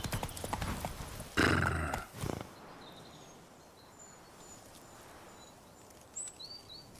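A horse in The Witcher 3 game clip-clops along with a quick run of hoof strikes and a loud whinny near the start, followed by quieter ambience with faint chirping birds and a few soft hoof taps later.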